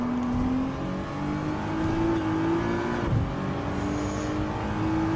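Race car engines in Gran Turismo 7, a Maserati GranTurismo S 2008 and a Porsche 911 GT3 Type 997 2009, drone steadily and loudly with a sustained whirring tone that climbs slightly, with no voices over it.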